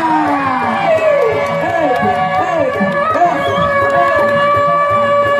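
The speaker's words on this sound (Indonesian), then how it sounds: "Tepuk tangan yang meriah" Festival crowd at an outdoor Kuda Lumping horse-dance show in Ujung Kulon claps and cheers steadily, with whoops and chatter mixed over a continuous bed of performance music.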